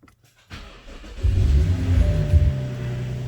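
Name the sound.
BMW 435i F3x engine cold start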